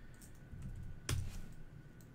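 Soft typing on a computer keyboard entering commands into a game's debugger, a few faint taps and one sharper key click over a quiet background hum.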